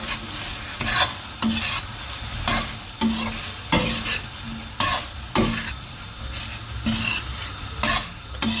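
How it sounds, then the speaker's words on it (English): Paneer and onions are stirred in a hot pan, with rhythmic scraping strokes roughly every second over a continuous close sizzle, and no talking. "dump those in there, give it a quick stir."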